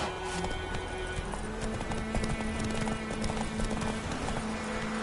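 Hooves of the horse Roach in The Witcher clip-clop in a steady trotting rhythm with a brief whinny, under a low ambient game backdrop.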